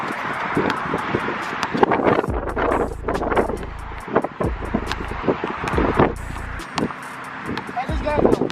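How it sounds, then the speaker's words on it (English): Strong wind buffets the microphone outdoors during a one-on-one basketball game, with low rumbling gusts rising and falling under loud, frequent talking between players. "It's so windy."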